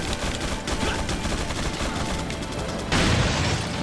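Shotgun fire in the video game Resident Evil 4 comes as dense, rapid impacts and crackling bursts over a busy in-game mix, ending in a louder blast near the end.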